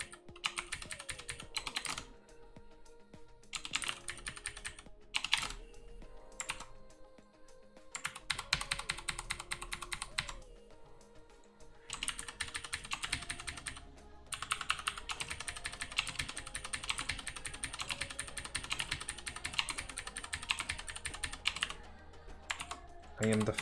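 Rapid bursts of computer keyboard typing come in fast clattering runs separated by short pauses, close and fairly loud throughout, with no talking.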